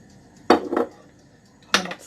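A frying pan, still unwashed, is picked up and set down while cooking, giving two quick close metallic clanks and then a third after a pause, with no talk.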